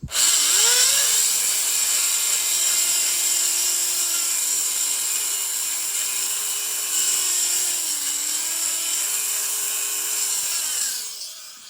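A high-pitched rotary power tool whines steadily, close and loud, while rounding and facing the hammer edge of a Black Aces bullpup shotgun, its pitch dipping slightly under load before it winds down at the end.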